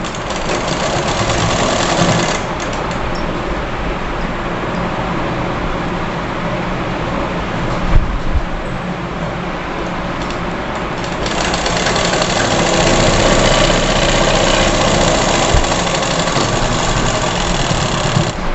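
A sewing machine runs steadily and loudly while stitching elastic onto a girl's frock, its dense mechanical whir continuing with a brief pause and a slight change in pace around the middle. No one speaks.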